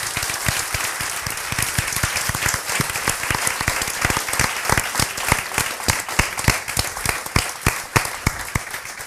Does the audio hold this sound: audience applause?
yes